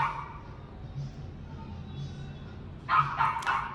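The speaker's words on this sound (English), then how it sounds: "we hear a dog barking across the street" A dog barks across the street outside a house after a remodel, a faint, distant burst of several barks near the end over a low, steady background hum.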